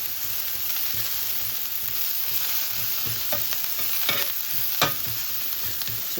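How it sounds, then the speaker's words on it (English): Onions and mushrooms fry on a griddle, giving a steady close sizzle with occasional sharp scrapes and stirring clicks from a spatula. "frying things like onions or mushrooms to give them plenty of space on the griddle"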